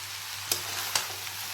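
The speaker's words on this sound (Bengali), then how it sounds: "ভাতের সাথে এখন আমি সব কিছু মিশিয়ে নিচ্ছি" Rice is stirred in a pan over a high gas flame, a steady frying hiss broken by two sharp scraping strokes of the spatula, close and clear.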